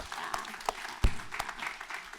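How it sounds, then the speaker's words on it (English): An audience at a business talk gives a short round of applause, a light, somewhat sparse patter of clapping lasting about two seconds. "Let's give her a round of applause."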